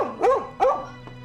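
A dog barks twice in quick succession, close and loud, followed by a couple of softer short yips trailing off.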